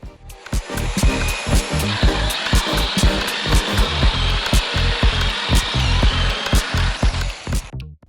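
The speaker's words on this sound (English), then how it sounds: "now I'll be putting quite a bit of holes on the plywood so the mattress will breathe" A drill bores a series of holes through a plywood sheet for a van bed platform, loud repeated bursts of cutting with sharp wood cracks and short pauses between each hole.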